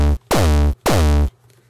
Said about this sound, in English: So here's my kick.